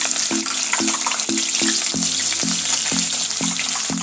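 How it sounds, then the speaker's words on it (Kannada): Onions frying in oil and ghee make a loud, continuous sizzle, with a regular series of repeated knocks or stirring taps close by. "ಆಮೇಲೆ ಈರುಳ್ಳಿ ಹಾಕೋಣ"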